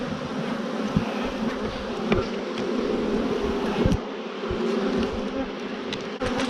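Honey bees swarm and buzz in a steady dense drone around an opened hive during the making of a split, with faint clicks and knocks of frames under the hum and no talk.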